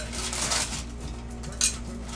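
Cutlery scrapes and clinks against a plate while slicing swordfish down the center, a steady close scraping texture with one brief sharp clink near the end.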